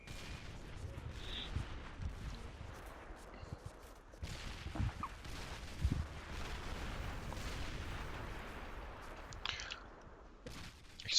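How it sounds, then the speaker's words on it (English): Artillery explosions in the Men of War: Assault Squad 2 game during a beach landing, a run of distant booms and rumbling blasts over a steady low battle din, with a few sharper bursts. "Explosions, explosions,"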